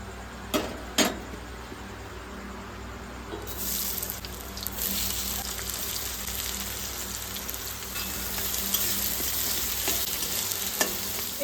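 Two sharp clinks, then onions start frying in hot oil with a steady, close sizzle that continues under occasional stirring.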